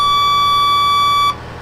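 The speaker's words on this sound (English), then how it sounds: "Of course, that annoying beeping noise" A warning tone sounds from a Zoomlion 85-foot man lift that cannot lower. It is loud, steady and electronic, holds for over a second, then cuts off abruptly.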